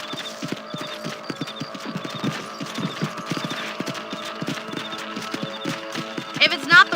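A horse's hooves clip-clop steadily as it is ridden in the Western video game Red Dead Redemption, a continuous rhythmic trot under game ambience and a voice speaking, with a brief sharper sound near the end.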